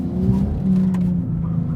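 BMW M4 CSL engine pulling at full throttle, a steady droning note heard from inside the car at moderate volume with road noise, briefly rising in pitch.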